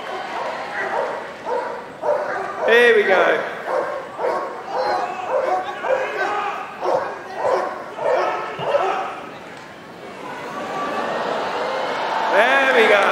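Police dogs bark and yip repeatedly at a West Midlands Police dog display at Crufts, loud and close in a rapid rhythm, while a handler talks over an amplified arena.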